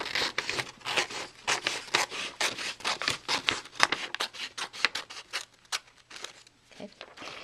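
Scissors snip through a square of paper to trim off an edge, a quick run of close, crisp cuts and rustles with light paper handling at the end.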